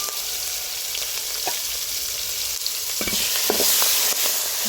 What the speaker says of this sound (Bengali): মরিচ, টমেটো দিয়ে দিচ্ছি, হলুদের গুঁড়ি, মরিচের গুঁড়ি, লবণ। এখন ভেজে নিব। ফ্রাই করে নিব।